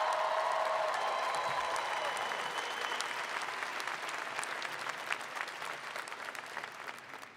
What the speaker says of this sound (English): We should have a big round of applause for your family and friends